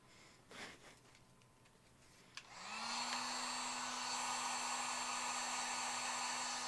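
A heat gun blows during windshield tint installation on a Chrysler 300, starting after a few soft clicks and then holding a steady loud whooshing roar with a constant hum to the end, no voices.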